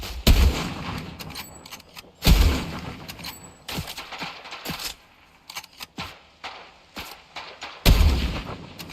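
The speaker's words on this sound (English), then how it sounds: "Fucking sniper rifle." Sniper rifle shots in Fortnite on PS5: three loud, sharp blasts spaced several seconds apart, with a few smaller gunfire pops between them from the game.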